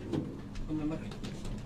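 Soft cooing from a flock of old-breed Chpary pigeons on a rooftop in Sialkot, low repeated coos under someone talking nearby.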